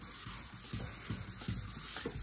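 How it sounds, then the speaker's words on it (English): Hand sanding across a painted surface, a steady abrasive scrubbing in repeated back-and-forth strokes about twice a second, close and fairly loud with no talking. "I'm just sanding normally."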